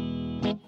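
A single sustained electric guitar chord from an Epiphone Les Paul on the middle pickup position rings out with a bright, slightly distorted tone, then a quick strum accent before it cuts off.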